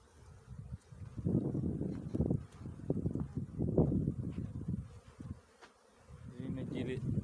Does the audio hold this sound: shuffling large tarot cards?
no